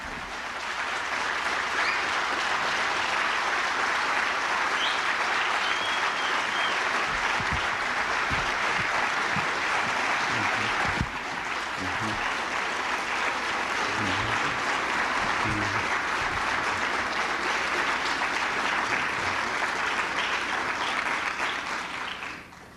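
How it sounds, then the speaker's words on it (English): Sustained audience applause in a lecture hall as a scholar is welcomed to the podium, a dense even wash of clapping from a standing crowd lasting the whole stretch with no talk. "And I ask that you help me by standing and giving a round of applause for our scholar, Dr. John Henrik Clarke."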